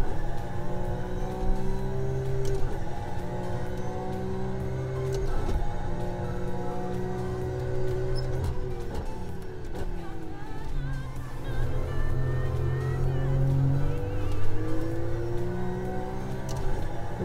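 A race car engine in the rFactor 2 Enduracers mod at Sebring pulls away from the hairpin in first gear, revving up through rising gear pulls with shifts in between, loud and close, with a steady whir under it.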